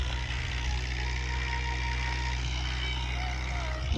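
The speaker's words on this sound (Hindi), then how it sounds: "दबंग ट्रैक्टर 85 हॉर्स पावर मेरे सामने चल रहा है डिस्कों पर।" An 85 hp Dabung tractor runs in a field pulling a disc harrow, a steady low engine drone with mechanical rattle, moderately near, with faint voices underneath.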